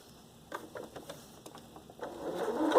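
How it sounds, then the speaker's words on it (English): Sewing machine sewing around the edge of a t-shirt fabric shopping bag, starting with a few soft ticking clicks and then building into a close, rising motor whir. "I am going to sew all the way around."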